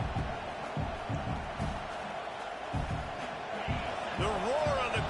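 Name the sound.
crowd roaring in a college football video game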